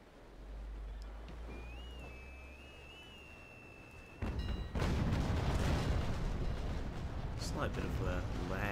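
In the Naval Action game, a sailing warship's cannons go off in a heavy, sustained rolling broadside of booms after a quieter stretch of wind and sea ambience, loud and close.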